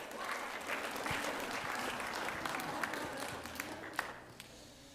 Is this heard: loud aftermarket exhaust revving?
no